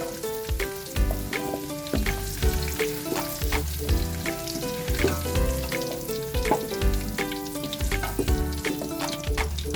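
Carrots and potatoes frying in hot oil for beef caldereta, a dense, crackling sizzle with constant popping and spitting that stays loud and busy throughout, no voices.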